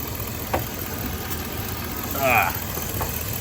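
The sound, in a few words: Chevrolet GMT800 truck engine idling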